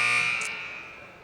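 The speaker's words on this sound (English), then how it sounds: "There's a second buzzer," A basketball timeout buzzer sounds in a high school boys' game gym: one loud, sustained electronic buzz that fades away, with no talking.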